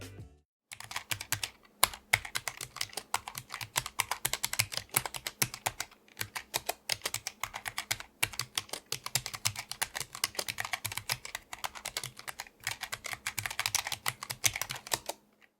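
Rapid, steady typing on a mechanical keyboard with shallow tactile switches and a short keystroke, crisp close clicks in a dense run with only brief pauses, no voices.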